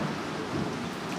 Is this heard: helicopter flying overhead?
no